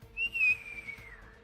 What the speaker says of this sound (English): You don't notice anything until you hear the whistling of a shell